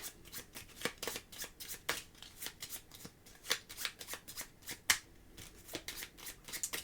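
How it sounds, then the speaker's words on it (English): Game cards for the board game Wyrmspan being shuffled by hand at close range, a steady series of quick riffling flutters and taps repeating for several seconds with no talk. "So you shuffle these up."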